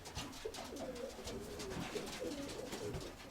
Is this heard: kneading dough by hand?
no